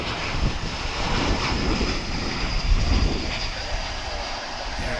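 An airliner taking off at DFW International Airport, a steady broad jet roar held at moderate distance for the whole stretch, without talk.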